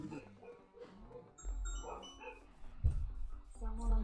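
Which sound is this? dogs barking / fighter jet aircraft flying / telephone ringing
dogs barking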